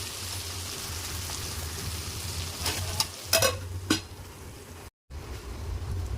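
Broad beans frying in a pan, a soft steady sizzle with a few sharper scraping stirs near the middle, close and without talk.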